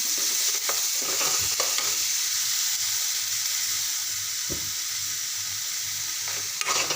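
Overnight-soaked green moong beans are stirred and fried in a pan for a spicy village-style bhaji, a steady loud sizzle with intermittent spatula scrapes and knocks throughout.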